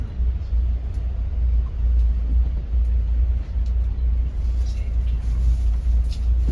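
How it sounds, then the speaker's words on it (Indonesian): A coach bus pulls out of Terminal Poris Plawad in Tangerang at the start of a morning trip to Malang, its engine a steady, close, heavy low rumble from start to finish. "Bus bergerak meninggalkan Terminal Polis Pelawat Tangerang."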